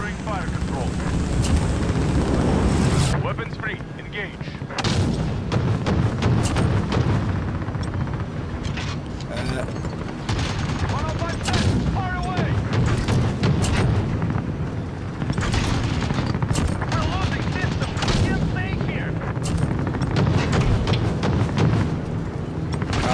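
Heavy cannon fire and explosions from an AC-130 gunship come as continuous loud booming blasts and rumble, with dense impacts layered over a constant roar, accompanied by voices throughout.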